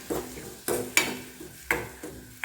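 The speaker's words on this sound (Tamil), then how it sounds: "இது நல்லா பச்சை வாடை போட்டு நல்லா வதக்கிக்கலாம்." Ground onion paste sautés in a pan as a spoon scrapes and taps the metal in a few spaced strokes over a low, quiet sizzle, close and without voices.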